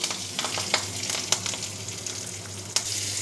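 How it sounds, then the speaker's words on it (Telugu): Tempering seeds, asafoetida and curry leaves frying in oil in a kadai for coriander chutney, a steady close sizzle with scattered crackles and pops, plus a few sharper spatter bursts, no talking. "ఇప్పుడు అదే బాండీలో కొంచెం ఆయిల్ వేసుకొని దానికి తాలింపు వేసుకుందాము"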